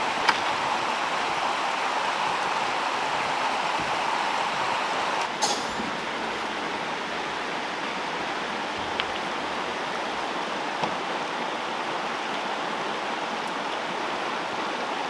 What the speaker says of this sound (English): So it's just started raining